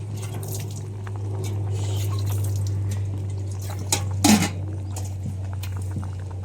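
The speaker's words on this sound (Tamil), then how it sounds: "நல்லா கொதிக்குது" A pot of liquid bubbles and gurgles over a steady low hum, with one louder splashy pop partway through.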